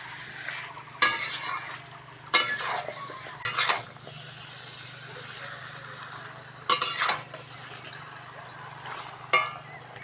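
Chicken scraps and potatoes are sautéed in a pan: a low steady sizzle runs throughout, broken by a few sharp bursts of spatula scraping and clinking against the metal, close and without speech.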